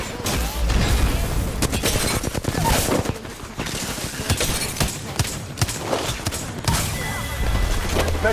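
Gunfire from Apex Legends crackles in rapid bursts and booming impacts, loud and dense, with short lulls between volleys and faint voices underneath.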